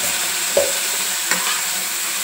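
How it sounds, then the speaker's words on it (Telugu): Masala with tomato puree and turmeric fries in oil for capsicum curry, a steady bright sizzle with two distinct spatula scrapes against the pan. "ఈ మసాలా అంతా మంచిగా నూనెలో"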